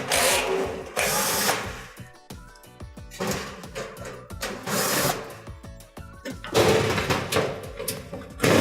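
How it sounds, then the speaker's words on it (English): A power screwdriver backs four screws out of the rear panel of a Frigidaire dryer. Several loud whirring bursts are broken by clicks and clatter, close up, with no talking. "we're going to go around back and remove the 4 screws"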